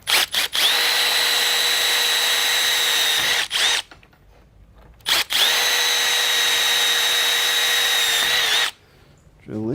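A power drill whines loudly at steady speed in two long bursts, separated by a brief pause, with a short restart at the very end, while assembling a Kingfisher Eclipse.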